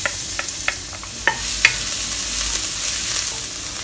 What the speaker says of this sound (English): Heat up a pan, add in some oil. Add in 3 pieces of garlic chopped.